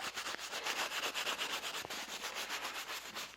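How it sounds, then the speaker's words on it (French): Fine abrasive sanding a wooden handle: rapid, regular back-and-forth rubbing strokes, close and even, with a brief pause near the middle and no voices. "c'est à peine une minute de ponçage"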